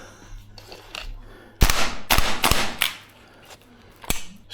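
Tokyo Marui AK gas blowback airsoft rifle firing its last rounds indoors in a CQB course: several sharp, close cracks with snapping bolt action, some in quick pairs, then a pause and one final shot.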